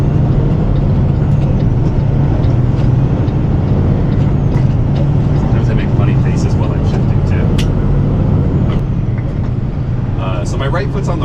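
A truck engine held at a loud, low rumble while the driver brakes and blips the throttle to match revs with road speed, continuous cab-interior drone with rattles over it.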